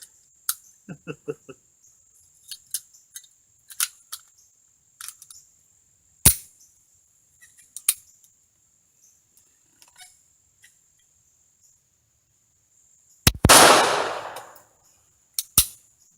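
A Radom P-64 pistol fired at a shooting range: a few sharp, isolated cracks spaced several seconds apart, with small handling clicks between them in otherwise quiet surroundings.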